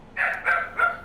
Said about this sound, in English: Oh, I hear a dog again.